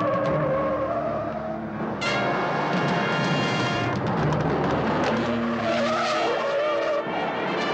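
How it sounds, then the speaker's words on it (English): A car brakes hard and skids with loud, sustained tire squealing throughout, mixed with engine noise, in a dramatic chase scene. "Hit the brakes!"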